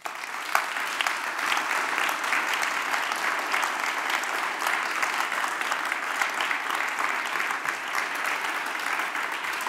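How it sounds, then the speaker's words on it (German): Audience at a digital summit conference in Bavaria applauding speaker Janis McDavid, a steady, full clapping from a large hall crowd that holds evenly throughout. "Nochmal Applaus für Janis McDavid."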